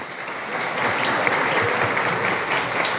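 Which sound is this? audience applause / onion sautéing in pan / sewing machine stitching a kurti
audience applause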